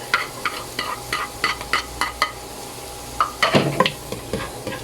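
Garlic sizzles in a hot pan while a utensil scrapes and stirs in quick, regular strokes, closely heard and without speech.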